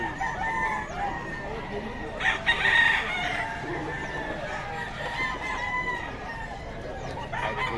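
Sweater bloodline gamefowl roosters at a market, with crowing and clucking heard at close to middle distance amid a busy background murmur of people talking.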